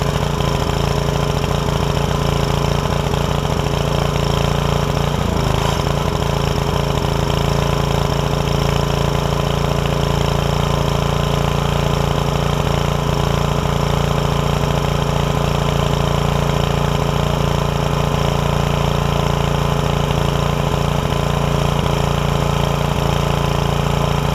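A 5hp Briggs and Stratton generator engine runs steadily, close and loud, with a constant droning hum throughout and one brief disturbance early on; the generator is losing power and its exhaust glows red hot.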